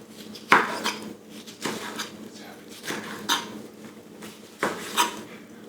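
A knife chops Roma tomatoes on a cutting board, four or five distinct sharp knocks spread over a few seconds against a quiet kitchen background.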